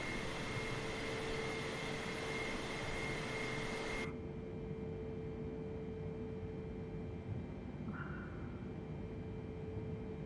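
Boeing 747 jet engines in the Flight Simulator 2020 game give a loud steady broadband roar with a tonal whine, which cuts off abruptly partway through, leaving a fainter low hum.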